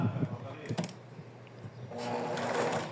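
A sewing machine stitches a small curve on a fox-shaped plush comforter, with short bursts of rapid mechanical clatter separated by pauses, close and fairly quiet.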